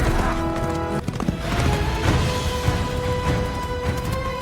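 A cartoon horse neighs while hooves clip-clop in an animated Islamic story, a loud whinny with tonal layers followed by steady hoofbeats and a few knocks, close and without speech.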